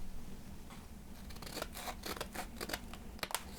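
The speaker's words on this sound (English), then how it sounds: "Essentially, you're cutting this part off." Scissors snip through folded paper for a homemade snowflake, a run of quick crisp cuts and rustles close by, growing busier toward the end over a low steady hum.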